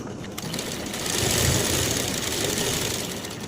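Sewing machine running a line of stitches on pant fabric, a close, continuous motor hum and needle chatter that swells slightly midway, with no voices over it.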